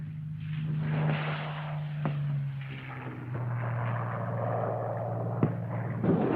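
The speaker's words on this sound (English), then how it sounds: "aircraft which had been brought by ship from Britain and reassembled on the Rock were flown off to Tunisia" Wartime aircraft, ferried by ship from Britain and reassembled on Gibraltar, droning as they fly to the front in Tunisia; a steady low engine hum with a few sharp knocks, heard alone.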